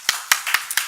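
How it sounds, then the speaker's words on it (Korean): Congregation in a Korean church clapping in a quick run of five sharp claps, close and fairly loud, with no voices over them. "할렐루야 박수"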